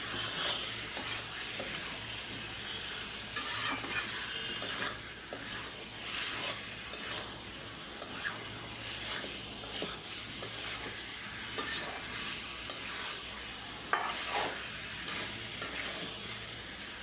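Broiler chicken pieces being stir-fried with turmeric, cumin and chili paste in a pan give a constant soft sizzle with repeated spatula scrapes and stirring clatter, moderately quiet and free of talk.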